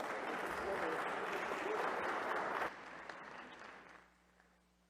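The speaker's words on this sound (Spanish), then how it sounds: "Recibamos con un aplauso" Audience applause welcoming Fray Gonzalo at a Senate forum marking the anniversary of the San Andrés Accords, a dense, steady clapping that fades away toward the end.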